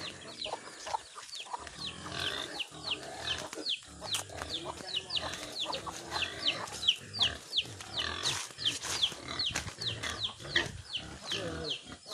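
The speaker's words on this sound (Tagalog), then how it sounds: "So, susunod naman ang mga baboy." Pigs grunting and squealing alongside clucking, crowing chickens on a farm in the northern Philippines, a busy layered chorus of animal calls close by throughout, with occasional voices mixed in.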